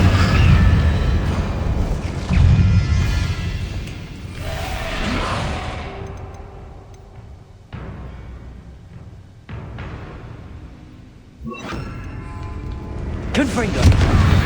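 Incendio fire spells blast in Hogwarts Legacy, heavy roaring booms and fiery bursts that swell and fade in several loud waves amid game sound effects, with a brief voice shouting during the action.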